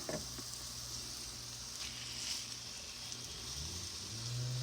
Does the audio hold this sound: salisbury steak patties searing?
yes